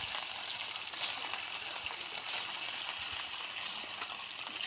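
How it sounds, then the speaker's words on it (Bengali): Rohu fish pieces frying in hot mustard oil hiss steadily and crackle, holding an even, moderately quiet sizzle with a few brighter spits. "ওই গরম তেলে একে একে মাছগুলোকে ছেড়ে দেব।"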